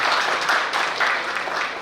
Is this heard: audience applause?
yes